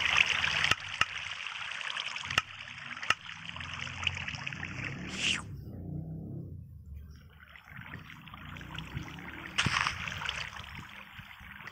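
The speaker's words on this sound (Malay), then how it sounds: "Disebabkan itu, air di sungai ini telah mengalir." River water flowing in a broad steady rush, loud and close, briefly interrupted midway by a lower muffled stretch before the running water returns, with a few sharp clicks early on.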